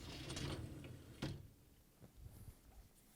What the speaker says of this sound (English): Pull out the upper dish rack.